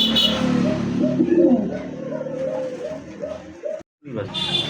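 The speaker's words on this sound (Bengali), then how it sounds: "কালারফুল রেড কালার এক জোড়া লাহোরি কবুতর" A pair of red Lahori pigeons coo close by in low, rolling, repeated phrases, with a brief silent gap before the cooing resumes.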